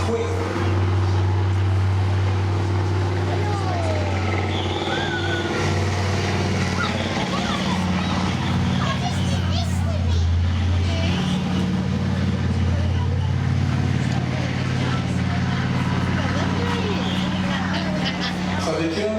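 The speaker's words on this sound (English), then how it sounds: "a thumping great MTU diesel engine. You can hear it rumbling away here" A heavy MTU tank diesel engine rumbles steadily and low throughout at a tank museum display, with someone talking over the continuous drone.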